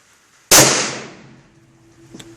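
A rifle fitted with a JP muzzle brake fires a single sharp, loud shot nearby, followed by a long fading echo.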